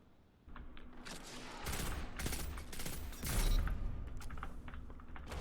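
Redrix's Broadsword pulse rifle fires in a video game: clustered bursts of quick cracking shots that grow denser and louder over a few seconds, with faint mechanical clicks between them.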